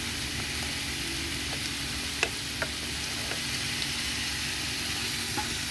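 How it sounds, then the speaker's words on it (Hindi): Chicken fries in ghee with a steady, dense sizzle that fills the clip, broken only by a few faint clicks and pops; nobody speaks. "अभी हम उसको फ्राई कर लेते हैं"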